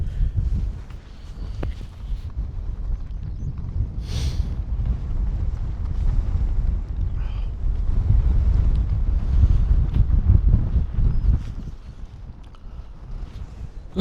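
Gusty wind buffets the microphone at a mountain campsite in the Black Mountains, roaring loud and constant with swells and lulls in strength throughout, with no talking.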